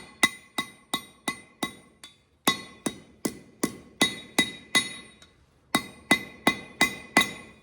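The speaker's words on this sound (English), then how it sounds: "I'm letting the anvil and the hammer do the work for me." A blacksmith's hammer rings on hot metal against an anvil in steady, evenly spaced strikes, bright metallic clangs in rhythmic runs broken by a couple of short pauses.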